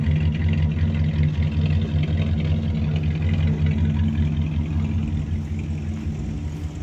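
A 1978 Dodge D150 Custom truck engine idles smoothly at close range, a deep, steady rumble with an even low drone that fades slightly toward the end, and no talk over it.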